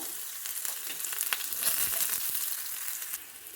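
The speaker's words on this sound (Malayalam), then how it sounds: "കടുകെല്ലാം പൊട്ടി വരുമ്പം ചെറുള്ളി ഇട്ട് കൊടുക്കുക" Mustard seeds and small shallots frying in hot oil for a pumpkin and cowpea erissery, a steady close sizzle with scattered sharp pops and crackles throughout, no voices.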